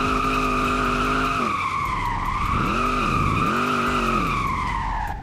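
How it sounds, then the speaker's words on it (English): A Dodge Charger Hellcat widebody drifts in a video game, its loud, steady engine roar blending with continuous screeching tire skid that rises and falls in pitch as the car slides, with no voices. "It's literally so easy to drift."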